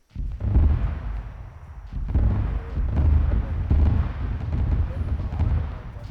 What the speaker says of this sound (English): Was that the artillery?